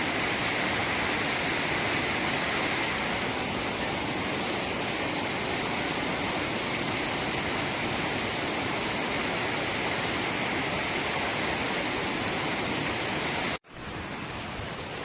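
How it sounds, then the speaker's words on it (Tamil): Zenith waterfall at Khopoli roars as a dense, steady rush of falling water, loud and close, unbroken until a brief cut near the end. "இங்க பாருங்க, வாட்டர் ஃபால்ஸ். செமையா இருக்கு."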